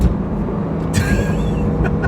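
A tuned Porsche 911 GT3 RS race car drives with a steady engine roar under broadband road and wind noise, with a brief higher whine rising and falling partway through.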